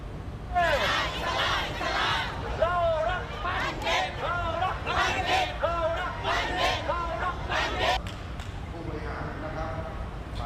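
A crowd of supporters for Hat Yai mayoral and city council candidates cheers and chants, with loud overlapping shouts, whistles and rhythmic calls that keep going for about eight seconds before fading into general outdoor noise.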